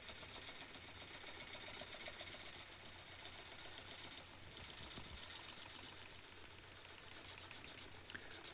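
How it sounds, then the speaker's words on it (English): A bowl gouge slices a bowl from 3,400-year-old burnt wood spinning on a lathe, giving a steady, close, rapidly fluttering cutting chatter that dips for a moment midway and then carries on. "Just let the material come around and be sliced by the bowl gouge."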